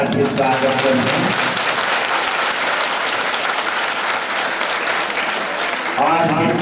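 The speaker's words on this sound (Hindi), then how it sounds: "सभी देवताओं के लिए जोरदार तालियों से स्वागत करते हैं।" Loud applause from a crowd at an ashram gathering, steady clapping with a voice speaking over its start and end.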